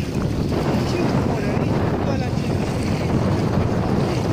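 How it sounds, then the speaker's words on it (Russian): Wind gusting steadily past a microphone on a cold spring seashore in Kamyshevatskaya, a dense continuous roar with rumbling buffeting and faint wave wash, loud and unbroken throughout. "Тут уже ветер дует, уже холодно."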